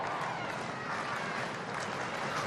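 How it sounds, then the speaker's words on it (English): Stadium crowd at a women's A-League football match in Wellington, a steady broadband roar of murmuring and scattered clapping that swells slightly, heard from a distance without clear individual voices. "Crowd starting to build and also make a little bit more noise"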